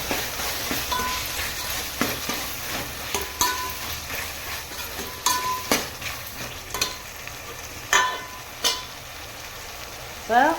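Masala for mutton biryani sautés in a pan, a soft sizzle broken by scattered scrapes and knocks of a stirring spoon against the pan, close and fairly quiet.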